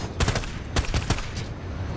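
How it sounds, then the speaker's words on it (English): Bursts of gunfire in Battlefield 2042, several sharp reports in quick succession, the first few loud and close, then fading into a softer rattling tail. "Who's shooting us right now? We're under fire!"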